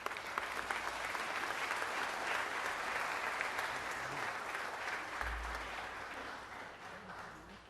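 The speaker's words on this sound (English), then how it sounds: "give them a round of applause" Round of applause from the audience at an Italian American heritage celebration as people are invited on stage, a full, steady clapping of many hands lasting several seconds before gradually thinning, with a faint low thump partway through.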